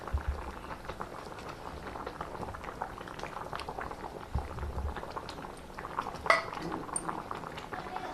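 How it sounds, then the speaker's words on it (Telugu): Chicken curry with ground dry coconut boils in a pot, a steady close bubbling and simmering with occasional utensil clinks and a sharper clatter partway through. "ఇలా మంచిగా ఉడుకుతుందండి."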